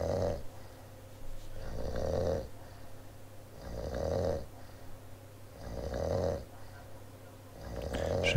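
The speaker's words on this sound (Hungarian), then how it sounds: "Most már hallgathatjátok, hogyan horkol a fa alatt." Isaac Newton snoring under a tree in a video game, a slow, regular series of four deep, rasping snores with quiet breathing gaps between them, close and clear with no talk.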